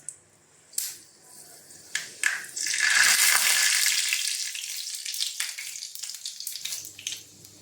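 Fenugreek seeds drop into hot coconut oil and burst into a loud, steady sizzle that fades a little as the frying goes on, after a few clinks at the start.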